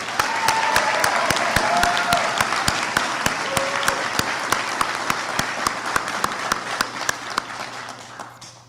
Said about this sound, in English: So another round of applause for Rachel.